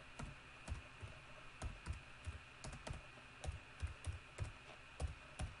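Faint, quiet keystrokes tap steadily on a computer keyboard while a description is typed into a service request form, the clicks coming in an irregular run of soft taps.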